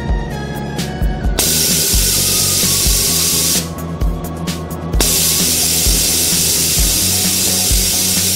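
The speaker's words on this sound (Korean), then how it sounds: "먼저 기포 부분을 레이저로 다듬어 줍니다." A jewelry laser smooths a porous bubble spot on a precious-metal piece before soldering, making a loud steady machine drone with bright hissing bursts near the start and middle.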